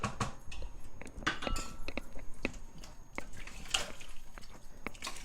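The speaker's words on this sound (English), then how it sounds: "I'm gonna give this a quick stir." Chickpea curry being stirred in a pressure cooker, giving a steady run of wet squelching, scraping and dripping sounds close up, with no talking.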